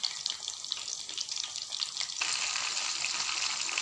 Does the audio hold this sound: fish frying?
yes